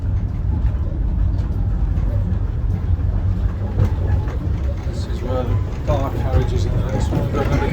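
Inside a moving Indian Pacific passenger train carriage, a constant low rumble of wheels and running noise with rattles and a voice coming through at times.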